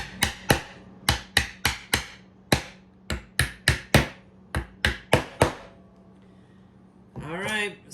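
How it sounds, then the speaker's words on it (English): Hammer striking xTool riser parts, roughly twenty sharp close blows in quick irregular runs with brief pauses, ending with a short burst of voice. "you'll need your trusty hammer with this one"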